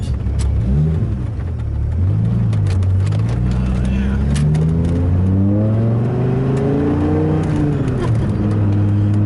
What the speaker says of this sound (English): you hear that V10 sound? And it's not an exotic V10 sound, it's definitely a deeper tone.